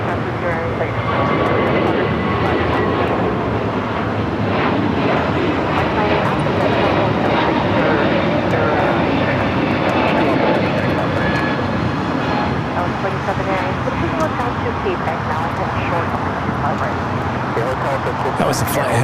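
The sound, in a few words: Airbus A321neo taking off from LAX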